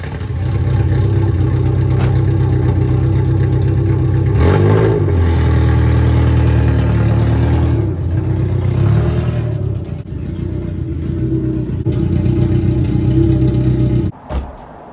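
The engine of a 40-year-old Toyota Corolla TE72 station wagon, fitted with an open header, drones loudly and steadily while the car drives. The pitch shifts briefly around the midpoint, and the sound cuts out abruptly near the end.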